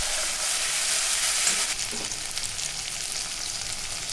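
Onion, ginger and garlic paste fries in hot oil in a wok, making a loud, continuous hissing sizzle. The sizzle eases slightly partway through, and a few faint stirring sounds come through.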